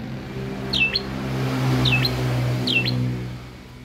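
A tame Asian pied starling gives three short, bright chirping calls spaced about a second apart, standing out over a steady low hum of background noise.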